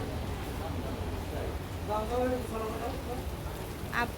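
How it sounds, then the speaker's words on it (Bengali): Steady heavy rain hisses throughout, a dense wash of noise with faint tonal sounds briefly rising in the middle. "প্রচণ্ড পরিমাণ বৃষ্টি"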